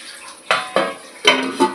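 Metal lid set onto a pan of stuffed brinjals cooking over a low gas flame, giving a few sharp clanks and knocks close by with no talking.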